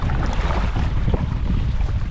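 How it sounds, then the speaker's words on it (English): Small boat pushing head-on through rough, choppy river waves, with a steady roar of wind and water buffeting the microphone throughout, loud and close, no talking. "River's rough. It's about as rough as I would want it in this boat. Getting some water up over, but still floating."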